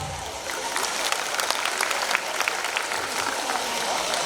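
Audience applause fills a school annual function hall, a steady wash of many hands clapping that holds for several seconds at even loudness.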